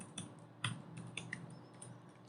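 Keys tapped at a computer keyboard while writing C++ code, a quiet, uneven run of soft clicks with a couple of sharper strokes, close by with no talking.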